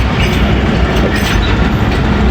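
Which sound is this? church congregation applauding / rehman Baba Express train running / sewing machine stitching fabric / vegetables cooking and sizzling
rehman Baba Express train running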